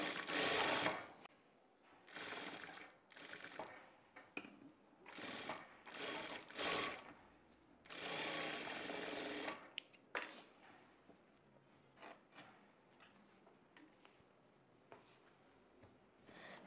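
A sewing machine stitches a prince-cut blouse with piping. It runs in loud, close bursts of a few seconds each, then gives way to quieter clicks and handling noises.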